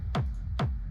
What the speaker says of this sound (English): The main kick that sounds like this